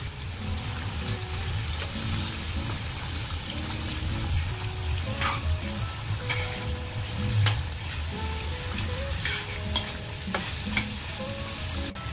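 Chicken meat, potatoes and salt frying in a pot for biryani, with a steady close sizzle and intermittent stirring scrapes throughout, no talk.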